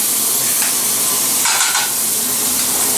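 Chopped onion and garlic hit a hot skillet with a steady, close sizzling hiss that swells briefly midway, with no voices over it.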